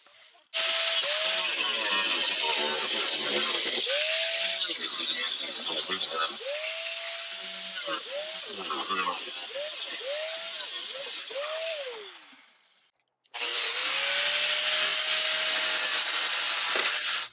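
A cutting wheel grinds through the sheet-metal bodywork of a Ford Transit AWD van in loud, harsh bursts, the pitch sagging and recovering as the cut proceeds, with a pause before a final pass.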